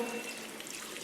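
Water from a faucet runs steadily in a public washroom while hands are washed, a continuous close hiss with no break.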